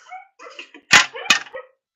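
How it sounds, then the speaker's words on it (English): Neighbors' dogs bark in short, sharp yaps, a few quick barks spaced across two seconds at moderate distance with faint background chatter between them. "freaking neighbors' dogs are loud and annoying."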